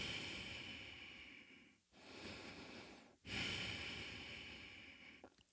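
A beatboxer breathes hard into a close microphone, two long breathy inhales or exhales with snorting nasal texture separated by short gaps, loud and close with no words.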